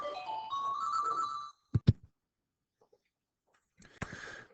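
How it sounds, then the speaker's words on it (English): A phone rings in the background with a melodic electronic ringtone of rising tones, then cuts off among a few clicks and knocks, and the tune starts up again briefly near the end. "I'm sure you probably heard that phone ringing in the background."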